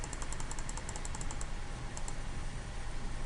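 Fingers press the keys of a graphing calculator in quick succession, giving a rapid train of small, close, crisp clicks over a quiet room hum.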